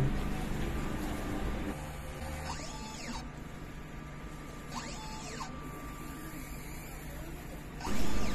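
A DTF printer whirs and clicks as the print head shuttles back and forth during head cleaning and capping, with periodic sweeping motor tones over a low mechanical hum.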